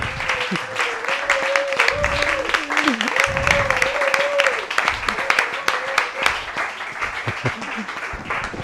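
Audience applause for a guest rock musician at a book presentation, a steady crowd clapping throughout with a sustained tone and some low thumps mixed in.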